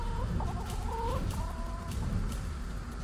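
Chickens cluck and chatter in the Chicken Derby racing video game, a steady run of short fowl calls over a busy, noisy game background with no talking.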